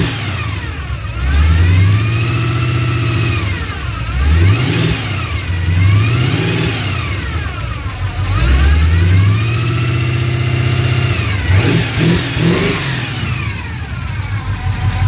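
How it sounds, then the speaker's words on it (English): A car engine fitted with a gear drive and a Gilmer 2-inch belt drive revs up and down repeatedly, with a mechanical whine rising and falling over the engine note. It is close and loud, with no talking. "You can hear the gear drive. And then that Gilmer 2-inch belt drive, that gear unwind sound too."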